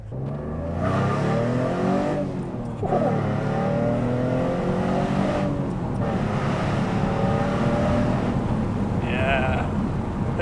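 An Alfa Romeo GTV or Fiat Coupe V6 exhaust burbles and rises through a few revs before settling into a low rumble, with voices talking nearby.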